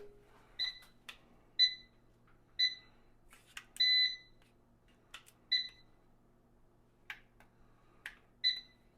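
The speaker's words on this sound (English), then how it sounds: "Oh, we got a beep." A series of short, high electronic beeps, about eight of them at irregular intervals, fairly clear against a quiet background with a few faint clicks.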